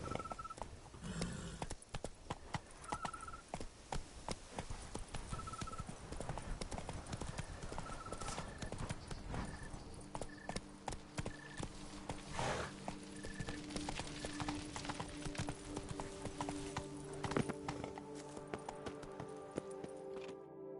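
A horse in The Witcher III: Wild Hunt – Blood and Wine trots with a steady, rhythmic clip-clop of hooves, fairly faint, with occasional game chimes and a brief voice over the hoofbeats.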